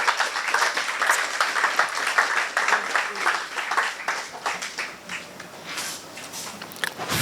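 An audience at a talk claps, a dense and steady round of applause that fades toward the end, with faint voices beneath it.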